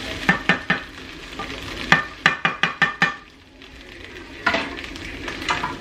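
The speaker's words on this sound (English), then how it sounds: "Fried potatoes and eggs." Potatoes and eggs fry in a pan, with a soft sizzle beneath a series of sharp, rhythmic scrapes and taps of a utensil against the pan, pausing briefly before more stirring.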